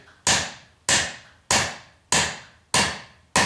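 A forging hammer tapping the bottom of a hammer handle on an anvil to seat the wedge, six evenly spaced sharp wooden knocks, close and clear with no speech.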